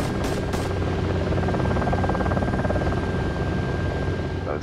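A Little Bird helicopter in the zombie survival game DayZ drones steadily throughout, a constant rotor and turbine wash with a thin steady whine, briefly topped by two sharp gunshot-like bursts near the start.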